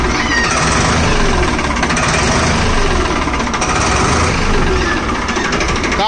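A Sonalika, Farmtrac or New Holland tractor engine runs loud and close, its heavy diesel chug rising as it revs, with a steady rattling vibration throughout.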